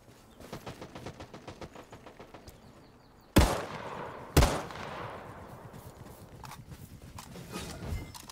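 Two loud gunshots crack out a second apart in the video game Hawked, following a run of quick rhythmic hoof-like clopping, with lighter shooting and movement noise trailing after.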